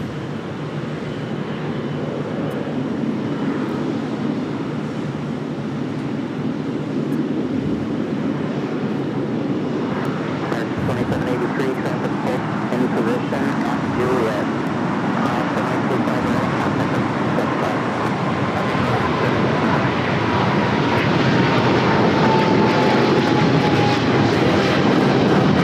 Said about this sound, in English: China Eastern Airlines 777-300ER now rolling on 25 right.